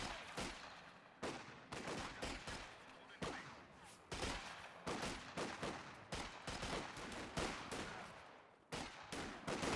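Rapid small-arms and machine-gun fire crackles in a Company of Heroes 2 battle, dense overlapping bursts repeating throughout at fairly low level.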